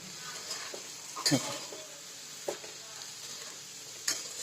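Bitter gourd fritters (karela vada) frying in oil over a low flame, a soft steady sizzle with a few sharp clinks of a utensil against the pan.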